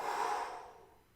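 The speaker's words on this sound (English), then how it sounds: "As we're doing some breathing." A single breath during a plank exercise, a soft airy exhale that fades out over about a second, close and quiet with no talking.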